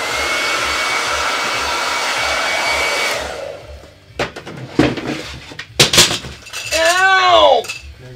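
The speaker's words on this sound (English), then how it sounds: "I'm gonna grab my hair dryer because we got gloss everywhere" Hair dryer blowing a steady loud whoosh used to dry gloss on a Chalk Couture Christmas hoop wreath craft, cutting off after about three seconds, then followed by clattering knocks and a voice.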